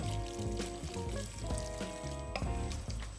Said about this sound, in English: we're going to start adding water, our hot water.